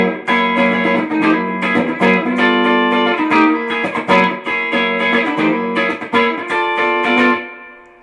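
Charvel DK24 electric guitar on a clean tone with the full humbucker pickup position, miked cabinet with a little reverb, strums a rhythmic chord pattern loudly and alone before ringing out.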